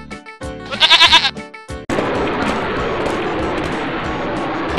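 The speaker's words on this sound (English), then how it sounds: "G for goat." A cartoon goat bleats in a few wavering cries near the start, followed by a steady wash of noise for the rest.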